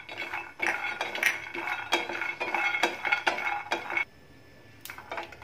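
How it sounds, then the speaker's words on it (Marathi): Peanuts dry roasting in a pan give off light, rapid clinks and rattling scrapes as they are stirred against the metal, close and fairly quiet, with a brief pause and a few more clinks at the end. "आता आपण शेंगदाणे भाजून घेणार आहोत"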